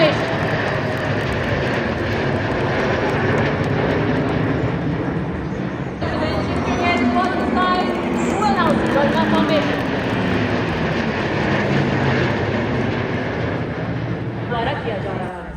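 A formation of military aircraft, a C-17 with Sukhoi jets, flies over a 2024 Republic Day parade in India. A loud, continuous engine roar stays steady throughout, and a commentator talks over it.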